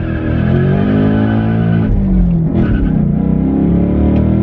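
A 2024 Mustang engine revs hard on a track, a loud sustained drone that rises and falls in pitch with a brief dip mid-way, close and continuous with no talk.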